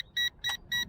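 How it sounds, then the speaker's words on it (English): An Eachine EX5 GPS drone sounds its low-battery warning: three evenly spaced, clear electronic beeps in quick succession, loud and close, with no talking. "Low battery warning, she's coming back."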